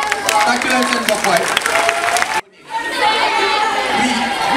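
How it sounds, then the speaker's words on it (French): A crowd claps and cheers loudly, dense rapid applause that cuts off abruptly, then resumes as a softer mix of clapping and excited chatter. "applaudissez vous-même"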